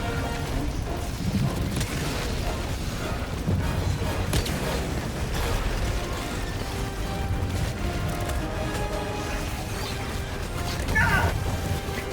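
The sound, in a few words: gas grenades exploding in video game Helldivers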